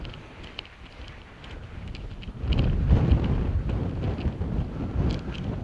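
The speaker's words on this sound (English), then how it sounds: "It's very windy." Wind rushes across the microphone on a hilltop near the Uffington White Horse, a low buffeting roar that starts moderate and then swells stronger and steadier for the rest of the moment.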